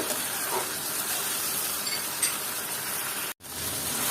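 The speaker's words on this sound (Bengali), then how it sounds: "এটাকে আমি ভালো মতো কষিয়ে নিব" Chickpeas frying and being stirred in oil in a pan for a vegetable dish, a soft steady sizzle and hiss close by, with a brief dropout near the end.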